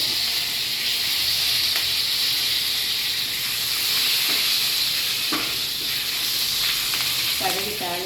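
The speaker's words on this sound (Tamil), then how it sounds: "இந்த தாளிக்க போட்டதோடு சேர்த்து கொஞ்சோண்டு கருவேப்பிலை" Curry leaves crackle in hot tempering oil with mustard seeds, urad dal and turmeric, a loud continuous sizzle with scattered pops and stirring scrapes throughout.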